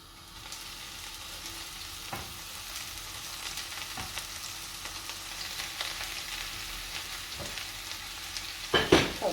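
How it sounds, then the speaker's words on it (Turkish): Oyster mushrooms go into hot oil in a pan, and a steady close sizzle of frying rises gradually, with stirring clatters and sharper bursts toward the end. "Evet artık yağ cozurdamaya başladı. Hemen koyuyorum bakın."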